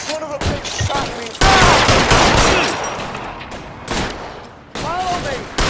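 Sustained gunfire crackles through a shootout in L.A. Noire, with dense bursts and a heavy volley near the middle, while game voices shout over the shots.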